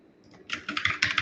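Rapid typing on a computer keyboard while writing in an Overleaf LaTeX editor, a burst of close, crisp keystrokes that starts after a quiet half second and continues steadily to the end.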